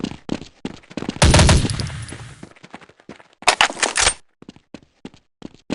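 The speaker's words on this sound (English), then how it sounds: "Taking fire! Need assistance!" Automatic gunfire rips out in two loud bursts on the de_train map in Counter-Strike 1.6, surrounded by scattered single shots, clicks and footsteps.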